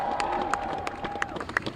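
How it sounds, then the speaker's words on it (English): Demonstrators gathered outside City Hall in Providence make a busy outdoor crowd murmur, with scattered claps and short shouts and a faint sustained tone running under it. "you can see the growing crowd of demonstrators spilling out into the street outside of City Hall"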